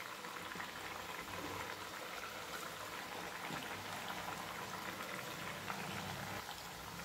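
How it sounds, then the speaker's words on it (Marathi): Chakli deep-frying in very hot oil in a kadhai over a full gas flame, a faint, steady, dense bubbling hiss that continues evenly throughout without voices. "आता गॅस फुलच ठेवायचा आहे आणि त्यामध्ये या चकल्या जेवढ्या कढईमध्ये बसतील तेवढ्या"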